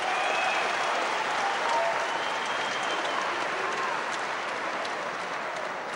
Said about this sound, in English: Crowd on their feet here.